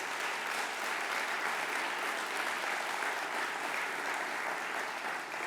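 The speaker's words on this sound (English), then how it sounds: "give her a round of applause, please" Audience applause at an award ceremony, a steady wall of clapping from many hands, moderately distant and even in level throughout, with no talking over it.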